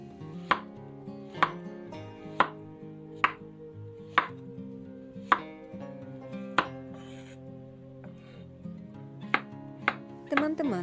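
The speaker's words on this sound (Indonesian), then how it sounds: "wortel yang sudah kita kupas dipotong tipis-tipis" A knife slices peeled carrots thinly on a cutting board for Chinese-style fried capcay, a dozen sharp evenly spaced chops, close and distinct, quickening into a faster cluster at the end.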